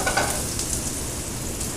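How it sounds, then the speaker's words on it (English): Shallots sizzle in a pan in a restaurant kitchen, a loud, steady crackle of frying with faint stirring and no voices. "Shallots cook just a minute."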